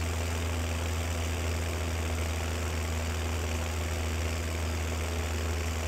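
Tractor engine in a farming video game running steadily under load while climbing a hill, a dense constant low drone with a droning hum throughout, loud and uninterrupted.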